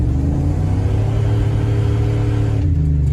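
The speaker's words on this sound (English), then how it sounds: "Well, that just spun the tires." A Ram pickup truck accelerating from a roll, heard from inside as a loud, steady low engine rumble that rises slightly in pitch before easing off near the end, with no talking.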